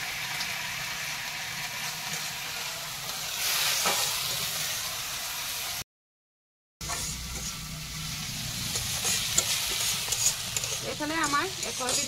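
Leafy greens with a little salt and turmeric stir-frying in a home kitchen pan, a steady sizzle with scraping stirs throughout, briefly cut by a short gap.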